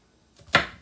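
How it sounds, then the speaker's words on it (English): A knife dices an onion on a cutting board, making a single close, sharp chop that fades quickly after a faint lead-in rustle. "now we're going to dice these up. And this onion I need to use"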